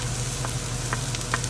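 Large red onions sauté in a pan with a steady close sizzle and a low hum underneath, broken by a few light scrapes and taps from stirring.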